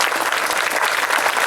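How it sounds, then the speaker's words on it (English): Audience applause at the 2016 Tournament for Heroes ceremony, a loud, continuous crowd clapping, close and full with no voices over it. "that absolutely deserves a round of applause, you bet"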